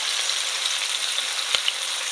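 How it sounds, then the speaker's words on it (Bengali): Potatoes fry in hot oil with salt and turmeric, giving a steady close sizzle with a soft stirring scrape partway through. "লবণ হলুদ দিয়ে এবার ভালো করে ভেজে নেব"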